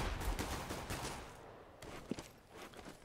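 Pistol gunfire crackles in Counter-Strike on the Dust 2 map during a pistol round in a HellRaisers versus Titan match, rapid faint shots and footsteps under steady game noise.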